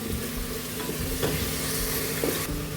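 Masala paste for chicken biryani fries in oil while being stirred, a continuous close sizzle broken by a few scraping stir strokes.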